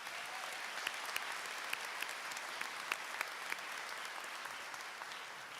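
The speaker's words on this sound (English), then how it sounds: "Let's give them another round of applause for their achievements." Sustained audience applause fills a recognition ceremony for college programs and career academy students, a dense steady wash of many hands with a few sharper claps poking out, no talking over it.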